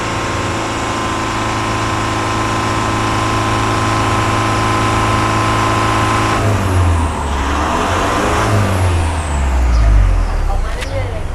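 Diesel car engine held at 2,500 to 3,000 rpm during exhaust pipe cleaning, a loud steady drone that shifts and wavers midway as the revs change, close and continuous.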